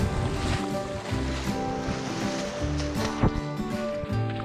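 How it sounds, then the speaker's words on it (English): Ocean waves wash onto the clean, fine sand of Iztuzu turtle beach in Dalyan, Turkey, making a steady close surf rush with a soft splash near the end and no talking. "Just what a beautiful beach it is."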